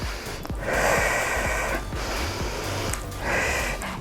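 Deep, forceful breaths drawn in and pushed out during a HIIT workout, two long nasal inhale-exhale cycles that sound close and rushing, with short gaps between them.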